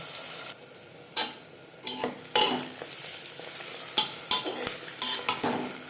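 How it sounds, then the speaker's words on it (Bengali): Onions fry lightly in a pan for mutton biryani, a steady close sizzle broken by repeated sharp scrapes and stirs of a spatula against the pan, with no talking. "পেঁয়াজ হালকা করে ভেজে নেব"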